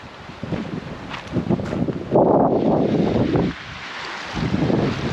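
Wind gusting by Revelstoke Lake on a canoe trip, rumbling buffets against the microphone that swell and fade in irregular surges, loudest in a sustained gust midway, with possible water lapping beneath.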